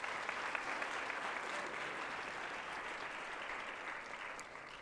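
An audience applauds steadily at a pharmacy students' congress gathering in Kigali, the clapping dense and sustained throughout, fading slightly toward the end with no talk over it.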